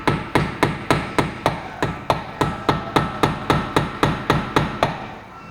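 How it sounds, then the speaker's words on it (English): A hammer drives a screwdriver to unstake the axle nut on a 2002 Subaru Outback, a steady run of about seventeen sharp, evenly spaced metallic strikes, close and loud with no talk. "Gonna try and unstake this a little bit with a screwdriver."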